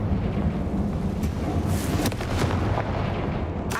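A Confringo fire spell fired in Hogwarts Legacy detonates as a loud, rumbling blast with crackling bursts, sustained over a dense low-end roar with a sharp flare near the end.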